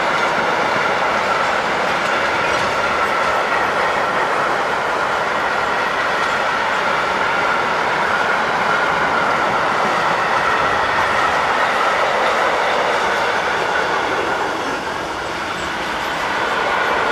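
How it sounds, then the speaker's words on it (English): An SNCF class 37000 electric locomotive, number 37028, hauling a freight train north near Düsseldorf airport gives a loud, steady roar of rolling wagons with faint rail clatter, sustained for the whole stretch and easing slightly near the end. "an SNCF's 37028, sub-hired from Akiem, heads north with train DGS 45203 from Wapi to Dortmund"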